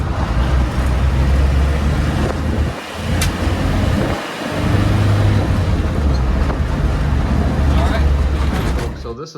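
A Land Rover Wolf Defender 90 with the 300Tdi diesel drives on the road and works through its gears, giving a loud, continuous engine and road drone with wind noise. It drops briefly twice, around gear changes.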